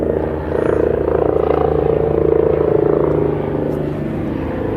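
A helicopter passes overhead, a loud, steady, low droning hum that swells slightly in the middle and holds for several seconds, with no voices over it.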